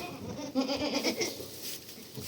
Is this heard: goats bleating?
yes